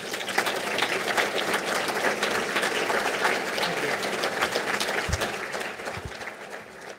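Warm applause from an audience welcoming Senator Rand Paul at a roundtable event, steady dense clapping that holds for several seconds, with a couple of low thumps near the end.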